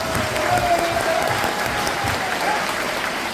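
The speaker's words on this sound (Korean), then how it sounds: "내가 기자님들에게 박수 한번 쳐드리겠습니다." Steady, full applause from a room of reporters at a Seoul press conference, many hands clapping evenly throughout with faint low murmurs beneath the clatter.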